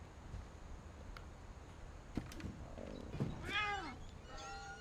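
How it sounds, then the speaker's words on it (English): A cat meows twice in the video game What Remains of Edith Finch, faint and set back in the scene, rising and falling cries near the end over a low ambient bed, with no talking. "I'm hearing a cat, actually."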